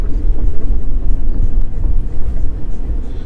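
A Mercedes-Benz W124 engine pulls in second gear, a loud, steady low rumble heard from inside the car.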